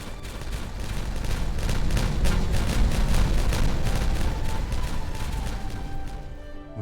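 Explosion in Timberborn, a dense rapid volley of cracking detonations with rumbling booms underneath, sustained for several seconds before thinning out into a quieter tail.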